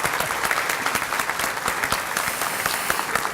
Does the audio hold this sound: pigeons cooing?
no